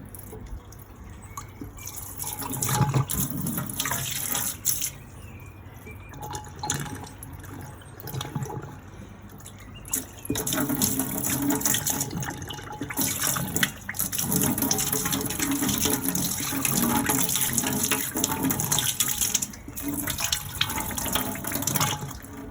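Tap water runs steadily over brewing equipment being rinsed, a constant rushing splash that grows louder and busier about halfway through. No voices are heard.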